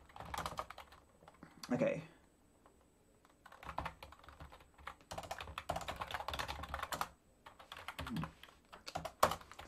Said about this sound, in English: This keyboard is being frustrating.